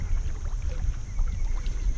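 A small boat trolling motor hums steadily with a high whine over low rumbling water and wind noise during bass fishing.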